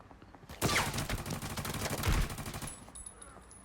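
Rapid sustained automatic fire from an MP5 submachine gun in the shooter game Arena Breakout, a loud continuous burst lasting about two seconds, then a short fading tail with faint clinks.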